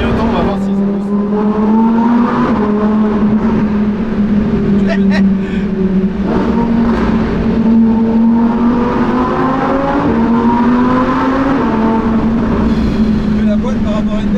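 A performance car accelerates in gear, its exhaust valves opening around 4000 rpm into a steady loud drone that rises and dips, heard from inside the cabin with the windows shut while people talk over it.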